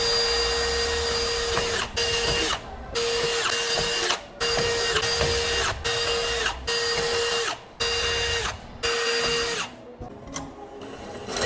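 A drill boring holes in metal plates for the strut of a competition drift car, an FC RX7 with a tube front, whining loudly and steadily in repeated bursts separated by brief pauses.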